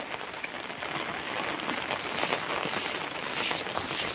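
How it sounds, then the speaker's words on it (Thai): Heavy rain pours down steadily outdoors on a muddy path, a dense even hiss of drops hitting the ground and surfaces throughout, with no other sounds standing out. "นี้ก็กำลังฝนตก อย่างแรงเลยนะครับ"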